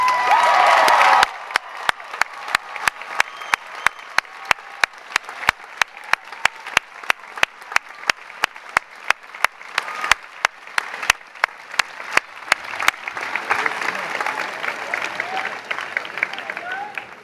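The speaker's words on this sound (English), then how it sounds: "I will call their names and ask you to hold your applause until all 4 are standing" Audience at a 2012 Ohio Wesleyan commencement breaks into applause with some cheering, a steady wash of clapping punctuated by sharp regular claps near the microphone, swelling toward the end.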